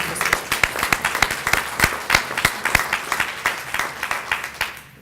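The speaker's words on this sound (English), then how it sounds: "Let's give a round of applause to all of our law enforcement officers." A modest group at a criminal justice agreement event claps for law enforcement officers: brisk, rhythmic applause with distinct individual hand claps, fairly close and steady for five seconds before tapering.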